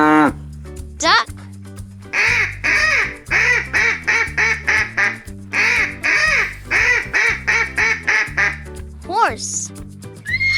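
A duck quacks rapidly in two long runs of loud, evenly spaced quacks over light background music, framed by brief spoken calls at the beginning and end.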